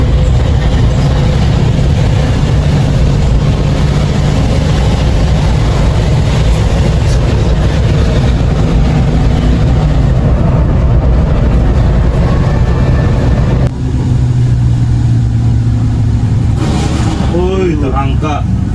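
Khatulistiwa Trans luxury bus, a Mercedes 1626, driving along the Trans Sulawesi road: a loud, steady engine drone and road rumble heard from inside, with voices faintly under the noise.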